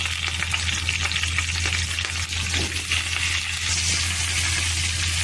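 Green chilies frying in oil in a pan, a loud continuous sizzle with scraping stir sounds over a low hum, no voices.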